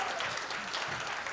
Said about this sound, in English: I just got an applause break for untangling a cord